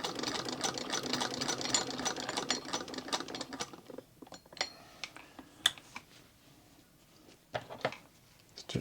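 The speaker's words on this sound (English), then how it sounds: "take 2 on the sewing attempt" 1898 Singer 28-2 sewing machine stitching, a fast close mechanical clatter for about four seconds, then scattered lighter clicks and taps as it stops.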